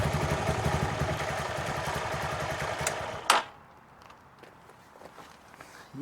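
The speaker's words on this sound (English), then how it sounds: "But once I turn the engine off" A motorcycle engine idles with a steady rumble during an oil and filter change, then shuts off with a brief clatter, leaving near silence.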